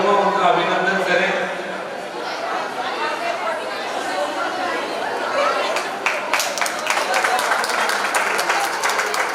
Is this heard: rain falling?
no